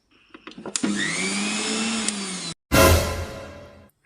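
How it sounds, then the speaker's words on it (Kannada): A kitchen mixer grinder whirs loudly for about two seconds as a cartoon sound effect, then cuts off and gives way to a second loud burst that fades out. "ಒಂದ್ಸಲ ಮಿಕ್ಸಿ ಆನ್ ಮಾಡಿ"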